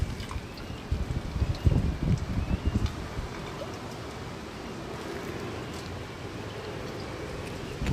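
Gusty wind from Windstorm Barney blowing outdoors, low rumbling buffets that surge louder early on and then settle into a steady, moderate roar, with no talking.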